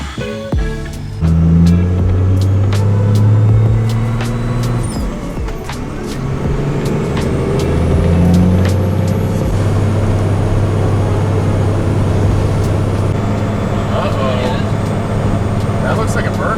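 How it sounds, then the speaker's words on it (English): A JDM car with a swapped Chevy small-block V8 does a burnout, its engine revving hard in loud, sustained, rising and falling roars that are close and dominant throughout. "That looks like a burnout."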